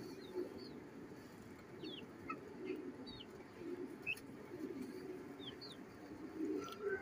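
Pigeon cooing amid a busy loft of birds, with several soft low coos repeating steadily over constant murmuring background noise and scattered higher chirps, no voices.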